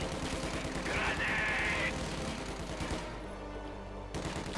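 MG42 machine gun fire in Company of Heroes 2 during a 1v1 match, a dense, sustained wall of rapid gunfire and battle noise with a brief high metallic whine, easing slightly before a final loud burst.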